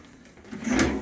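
A drawer in a cruise ship grand suite aboard the Carnival Pride slides open or shut, making one brief, soft rumbling scrape that rises near the end of an otherwise quiet moment.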